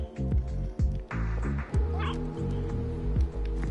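A cat meows in the video game Stray, its short cries sitting among busy game music and sound effects with heavy low-end thumps, the calls fairly clear but partly masked by the surrounding mix.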